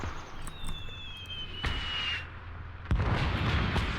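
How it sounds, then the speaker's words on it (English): Mortars fire in the Call to Arms: Cold War Gone Hot battle game, with two sharp distant thumps over ambient battlefield noise and a thin whistling tone between them. "Probably our mortars going off."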